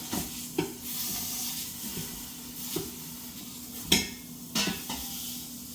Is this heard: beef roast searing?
yes